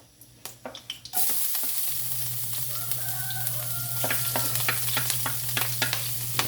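Garlic hits a hot pan, bursting into a loud, steady sizzle after a few clinks of the spoon, with stirring scrapes and taps continuing over the frying.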